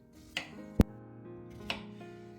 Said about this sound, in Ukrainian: Один свіжий огірок миємо та нарізаємо невеликими півкільцями